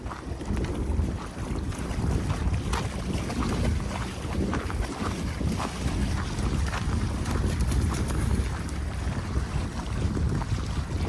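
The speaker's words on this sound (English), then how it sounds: "There was a strong wind blowing at this day" Strong wind buffets the microphone in continuous rumbling gusts on a spring day in Switzerland, with a low roar of waves and water underneath throughout.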